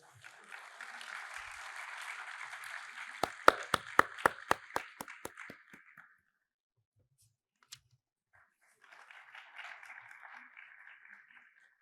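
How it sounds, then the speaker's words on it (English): Audience applause at a university lecture-series function honouring a chief guest, a spread of clapping that carries several loud, evenly spaced claps in its latter half, stops, then resumes more faintly after a short silence. "A huge round of applause."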